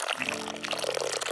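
Melted chocolate poured over a giant Reese's-style peanut butter filling, a brief close, soft trickling pour.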